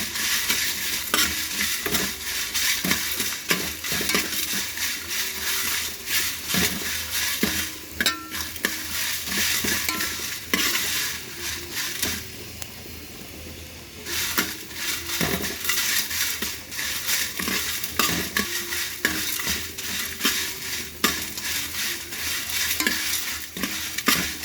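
Spices roasting with ajwain in a pan for a mackerel fish curry, a steady close sizzle with continual scraping and clinking of a spoon stirring against the metal, loud and busy throughout.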